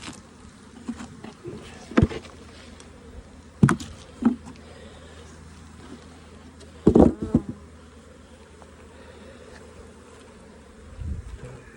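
Honeybees buzz around a hive box during almond pollination in a dense, continuous hum close by, with a few louder knocks and bumps breaking through now and then.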